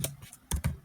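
A computer keyboard is tapped while writing Python list code: a few quiet, separate key clicks in quick succession, close by.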